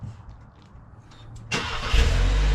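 A Mazda Miata engine cranks and catches at about one and a half seconds, then settles into a loud, close, steady running rumble after a brief quiet stretch of faint background noise.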